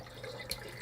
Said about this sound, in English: Now we're just going to put some water in there.